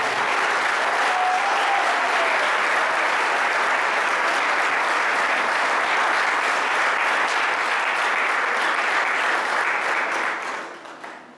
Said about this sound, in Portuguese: Eu posso ouvir um aplauso ao Rei?